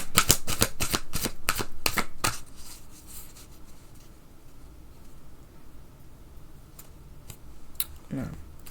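Tarot cards being shuffled in a rapid series of sharp riffling snaps, then quieter sporadic card clicks and handling, with a brief voice sound near the end.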